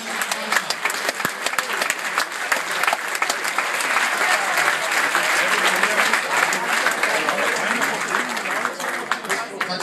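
A crowd at a TuS Koblenz preseason training kickoff applauds a newly introduced Japanese player, steady sustained clapping filling the whole stretch at a fairly loud, close level.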